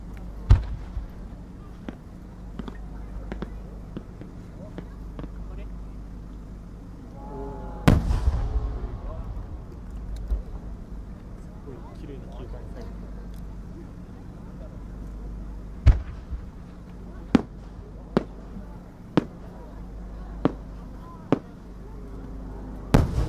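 Japanese warimono aerial fireworks at the Akagawa fireworks festival send out a string of sharp booming bursts, loud and spaced irregularly, with a launch whistle and crackle partway through and some crowd voices between blasts.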